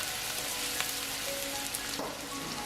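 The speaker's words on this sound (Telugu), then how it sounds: "ఒక 2 మీడియం సైజ్ ఆనియన్స్ సన్నగా కట్ చేసుకున్నవి ఇందులో వేసి ఒక 1 మినిట్ ఇలా ఫ్రై" Thinly sliced medium onions fry in hot oil for chicken biryani, giving a steady broadband sizzle with a few faint stirring clicks near the end.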